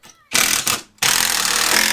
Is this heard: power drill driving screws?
yes